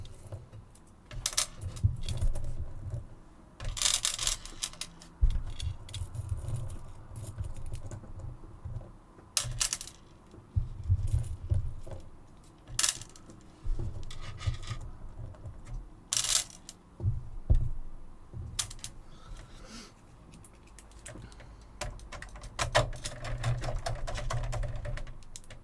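Small screws being removed during electronics repair, heard as a busy stream of small metallic clicks, rattles and scrapes close up, with screws tinkling as they drop, over a steady low background hum.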